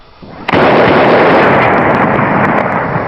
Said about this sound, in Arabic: وانطلق مدفع الإفطار.